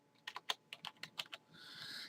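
Fingers tap a zip code on a computer keyboard, about a dozen quick, crisp keystrokes close up, followed by a soft electronic hiss.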